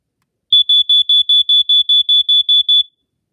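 A First Alert SA67D smoke alarm from around 1990, made in Mexico, sounds during a test with a loud, piercing high beep pulsed about a dozen times in quick even rhythm, close by and with no other sound.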